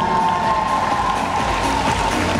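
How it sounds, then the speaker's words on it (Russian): Convention hall audience at a cosplay contest cheers and applauds in a loud, dense wash of crowd noise, with a steady tone running through it. "И провожаем их громкими аплодисментами."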